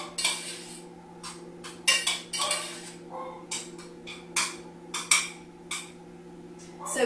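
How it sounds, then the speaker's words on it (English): A spoon stirs fruit compote in a pot on a stove, making a series of sharp metallic clinks and scrapes at an irregular pace against a faint steady hum, fairly quiet and with no voices. "Let's give them a quick stir."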